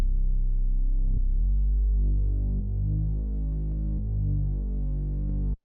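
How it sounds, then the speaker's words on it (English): A deep, throbbing Growler Move synth bass line in FL Studio plays alone, low and heavy, with notes shifting every second or so in a steady groove. "I pulled out this Growler Move bass."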